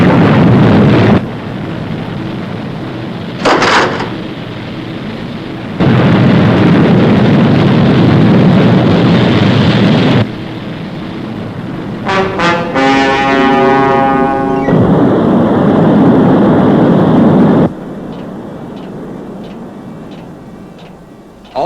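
Fireball XL5 test capsule rocket igniting and launching, a loud roaring blast in bursts with a tonal whine and rising pulsing tones in between, fading to a quieter hum near the end.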